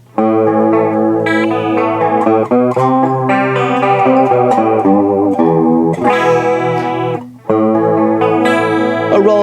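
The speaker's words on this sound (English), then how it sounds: "A relatively clean sound with a little bit of chorusing there, nothing too crazy." Guitar through a NUX Cerberus multi-effects pedal set to a fairly clean tone with light chorus, shimmering chords and picked notes played alone, loud and close with a short break near the end.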